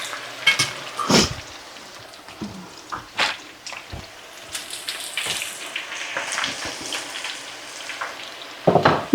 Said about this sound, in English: Stir these fries here for just another minute.